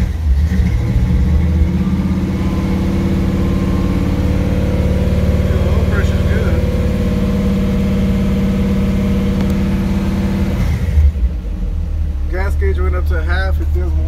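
A 1965 Chevrolet C10 pickup engine runs loud and close after a cold start, holding a steady rumble throughout, with a voice speaking briefly near the end.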